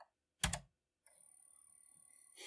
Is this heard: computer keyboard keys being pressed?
yes